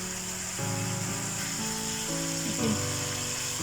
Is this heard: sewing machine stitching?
no